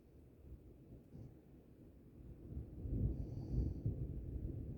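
Thunder rumbles low and soft through a storm, a deep rolling swell that builds and grows louder toward the end, with no voices over it.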